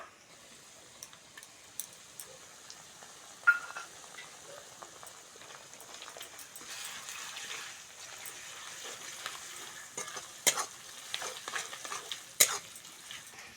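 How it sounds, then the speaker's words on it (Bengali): Ginger garlic paste fries softly in a pan under a faint, steady sizzle. Occasional clicks and scrapes of stirring come and go, and nobody speaks. "এবার আদা রসুন বাটাটা দিয়ে দেবো আদা রসুন বাটা"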